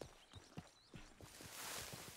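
Horse hooves clip-clop in a steady walking rhythm in Red Dead Redemption 2, faint and fairly close, with a rising hiss of wind or movement toward the end.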